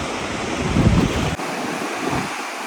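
Lake waves splash and wash against the shore at Headlands Beach State Park in Ohio, a steady close rush of surf mixed with wind buffeting.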